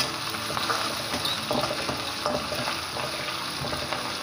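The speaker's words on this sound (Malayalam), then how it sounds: "ഈ വെളുത്തുള്ളി ഇഞ്ചിയൊക്കെ ഒന്ന് മൂക്കണം." Crushed garlic and ginger with kanthari chilies frying in oil produce a dense, continuous crackling sizzle up close, with faint clicks of stirring throughout and no voices.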